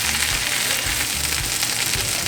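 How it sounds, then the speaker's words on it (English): Scallion pancake batter sizzles steadily in a hot oiled pan, a dense close crackle with faint low thumps underneath. "That sizzle is so beautiful. It's just an amazing sound."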